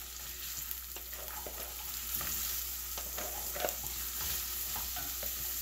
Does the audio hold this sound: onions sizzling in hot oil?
yes